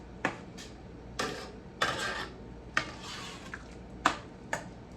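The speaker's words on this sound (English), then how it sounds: "I'm gonna stir that in real good." A spoon scrapes and knocks around a cooking pot as peppers are stirred into brine. Six or seven distinct clinking strokes come at a steady, unhurried pace, close and moderately loud, with no talking.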